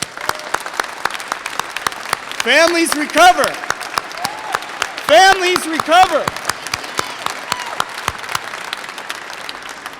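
Applause from a crowd at a recovery advocacy rally outside a state Capitol, honoring family members; clapping runs under a voice amplified over a PA, with crowd calls rising briefly twice.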